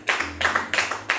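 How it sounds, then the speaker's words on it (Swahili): A church congregation clapping in welcome, several quick bursts of hand claps in an uneven rhythm, close and fairly loud. "Ukija tumpigie makofi."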